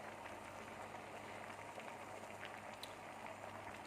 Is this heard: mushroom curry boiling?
yes